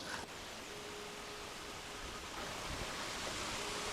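Water flows steadily down a forest hillside in the Blue Mountains toward a waterfall, a continuous broadband rush that stays close and unbroken throughout.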